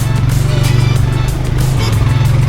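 ATV engine on a guided tour ride near Yelapa, Mexico, a steady loud low drone with a pulsing rumble throughout, heard close up.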